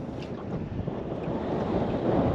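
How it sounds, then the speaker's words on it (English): Steady wind buffets the microphone on a river during soft-plastic lure fishing, a continuous broadband roar with faint water lapping beneath, growing slightly louder toward the end, with no talking. "I hope this wind backs off."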